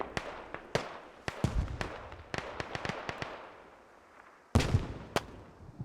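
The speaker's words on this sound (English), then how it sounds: "Grenade out. Good grenade." A grenade and a burst of combat fire in a military video game battle in Kamdesh between insurgents and militia, with a run of scattered sharp cracks and bangs and then a heavier explosion near the end, all at moderate distance.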